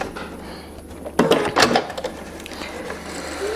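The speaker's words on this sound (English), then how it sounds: "I'm going to back stitch a little bit here at the end" A sewing machine shirring fabric with elastic thread makes a short back-stitch, a quick mechanical whir and clatter lasting about half a second amid near silence.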